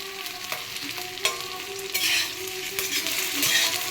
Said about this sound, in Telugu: కొంచెం ఇలా వేగిన తర్వాత